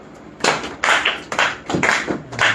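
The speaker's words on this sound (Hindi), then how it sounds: "जोरदार ताली मारो उसको" Loud claps from an audience at a devotional lecture on the Bhagavad Gita, coming in four or five short bursts with pauses between them.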